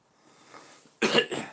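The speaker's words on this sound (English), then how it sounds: "she coughs all the time" A soft breathy lead-in followed by two loud, close coughs in quick succession.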